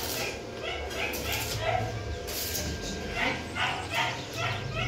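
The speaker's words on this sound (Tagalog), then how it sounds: "Ano problema nitong aso at panay kahol ng kahol?" A dog barks again and again in short yipping bursts, with some whimpering, over a low background rumble at a house under construction.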